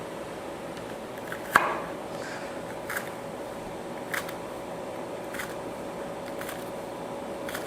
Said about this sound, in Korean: 그 사이에 대파를 조금 썰어 보도록 할게요